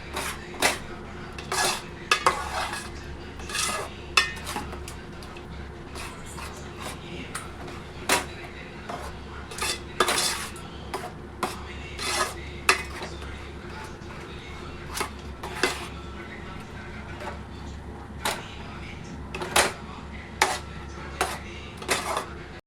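Halwa is stirred in a pan, a long run of sharp, irregular metallic scrapes and clinks of the spoon against the pan, steady and fairly close.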